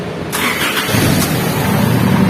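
A diesel Isuzu D-Max pickup fitted with a push-start button and smart key cranks briefly and catches, settling into a loud, close, rumbling idle.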